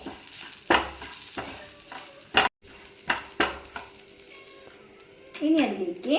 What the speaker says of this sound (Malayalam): ഫ്ലെയിം നന്നായി കുറച്ച് വെച്ചതിന് ശേഷം 1/4 ടീസ്പൂൺ മഞ്ഞൾപ്പൊടി ഒന്ന് ഇളക്കി കൊടുക്കാം.